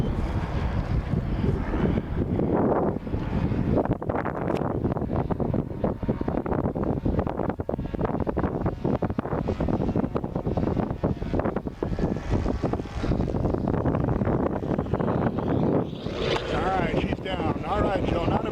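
Strong wind roars and buffets the microphone outdoors as a Joe-flown model airplane lands, a dense steady rumble lasting throughout with no clear engine note emerging above it.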